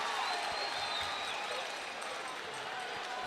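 Stadium crowd cheering at an arena football game between the Duke City Gladiators and the Arizona Rattlers, a steady distant roar of voices with scattered applause sustained throughout.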